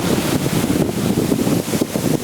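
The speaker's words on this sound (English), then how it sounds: "Too much wind for the spinnaker." Strong wind blows across a sailboat on a downwind reach at sea. The wind roars steadily and buffets the microphone, with waves washing under it and no speech.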